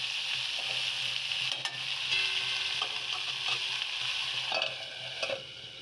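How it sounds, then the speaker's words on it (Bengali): Green beans and potatoes frying in a pan with hot oil, a steady close sizzle with occasional stirring scrapes and clicks throughout, no voices. "বসিয়ে দিয়েছি বরবটি আলু ভাজা"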